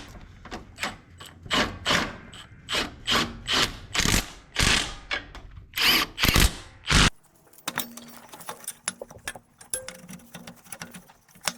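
Ratchet tightening big bolts on a Briggs & Stratton V-twin engine during a cam replacement, loud close bursts of rapid clicking repeated about a dozen times, then quieter scattered clicks and faint handling noises.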